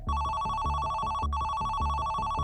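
A telephone rings loudly and continuously with a steady pulsing tone, like a call coming into a police control room, with no voices.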